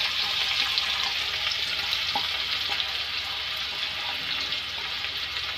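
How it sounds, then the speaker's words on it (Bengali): Chopped onions frying in hot oil over medium heat give a loud, steady, dense sizzle that holds evenly throughout, close up and alone, with faint crackles scattered through it. "তেলে ছেড়ে দিচ্ছি আমরা পেঁয়াজ কুচিগুলো।"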